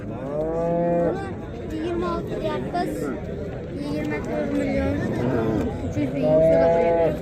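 A cow moos repeatedly at a busy livestock market, long drawn-out calls rising and falling over a steady background of crowd chatter and other animals.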